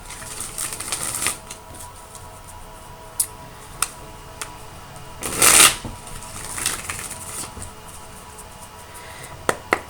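Tarot clarifier cards being shuffled and drawn, with soft scattered taps and clicks of handling and one brief, louder riffling burst near the middle, close up and with no voices.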